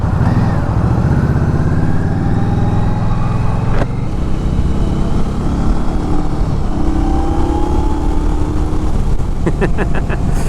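An Indian Scout Rogue motorcycle accelerates hard, its engine roaring loudly and close throughout as the revs climb, with a brief sharp click partway through.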